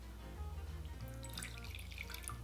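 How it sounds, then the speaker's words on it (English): Hot water trickles and drips into a bowl for a soy and oyster sauce, a quiet steady pour heard alone near the mic. "To make the sauce, add in the hot water"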